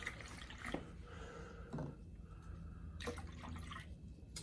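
Apple juice pours from a measuring cup into a marinade for flank steak jerky, a quiet trickling splash with a few brief glugs and drips, faint and close.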